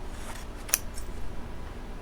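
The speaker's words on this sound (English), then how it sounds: "I'm just gonna cut the extra off of the edges so that we have just the print" Scissors snip once to trim the excess border off a sublimation print, a single short crisp cut standing out against a quiet room background.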